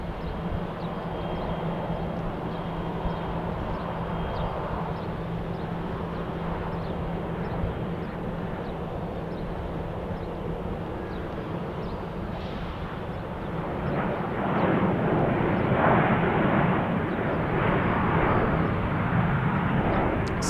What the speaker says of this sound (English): An A321 headed to runway 34 right as well.